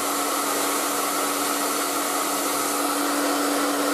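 ETI Professional Turbodryer 2000 hair dryer, aqua, running on high heat at low speed, a steady, loud, airy whoosh with a constant motor whine, unbroken and close throughout, without any talking.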